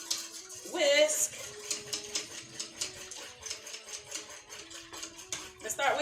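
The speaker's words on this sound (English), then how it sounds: "and start whisking it up" A whisk beats fresh cream in a bowl, tapping and scraping quickly in an uneven rhythm. Someone talks over the whisking.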